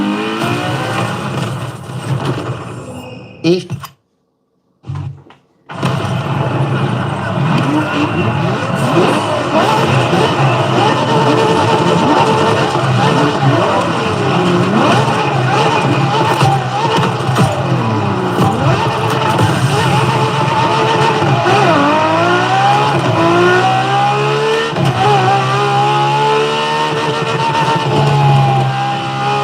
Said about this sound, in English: LaFerrari is the first Ferrari we have with an hybrid engine.